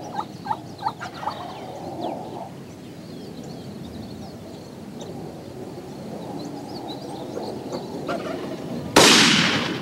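A wild Rio Grande turkey longbeard gobbles in rapid rattling bursts early on, followed by quiet outdoor ambience and then a sudden loud muzzleloader gunshot blast near the end.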